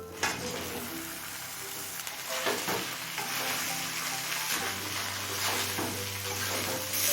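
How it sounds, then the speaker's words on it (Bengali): Vegetables sizzle steadily in a hot pan with ginger while a spoon stirs and scrapes through them, close up and continuous. "আদার সঙ্গে সমস্ত সবজি মিনিট দুদিন কষিয়ে নিলাম"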